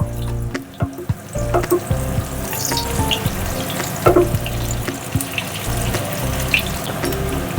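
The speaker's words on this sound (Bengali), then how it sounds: "এই দিকটাও ভাজা হয়ে যাক।" Spinach and paneer pakoras bubble and sizzle in hot oil, with occasional clinks and scrapes from a utensil. The sound stays steady and close.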